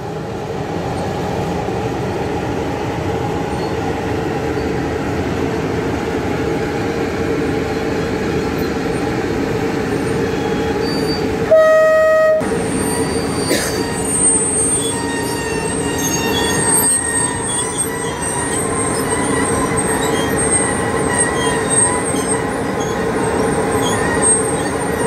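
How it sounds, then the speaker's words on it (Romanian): A passenger train rolls through Brașov railway station in Romania, a loud, sustained rumble of wheels on track with shrill squealing and a brief tonal whine partway through, close by. "Trenul Ireneu 1742, Satu Mare, București Nord, în gara Brașov."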